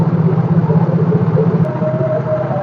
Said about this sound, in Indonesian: Inilah Mioji bisa nyala mesin tanpa menggunakan aki.